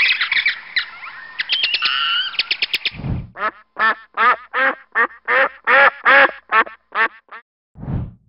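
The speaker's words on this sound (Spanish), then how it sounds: "Así es el pato." Loud, rapid duck quacks in a rhythmic series, close and alone, following a burst of harsh squawking.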